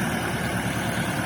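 Steady low rumble of a KENTAVR 404S tractor engine at idle, close and constant with a slight vibrating texture, no voices.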